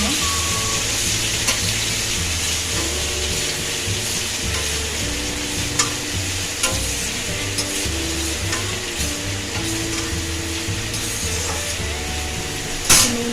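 Eggplant and white watermelon rind sizzle steadily as they fry in a pan, with repeated stirring scrapes and occasional clinks of utensil against metal, close and continuous with no talk.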